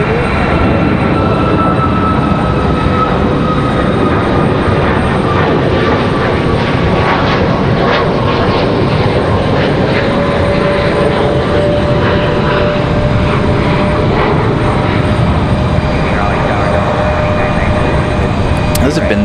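A Southwest airliner lifts off at Raleigh-Durham, its engines a loud, close, continuous roar with whining tones, while a voice talks over it.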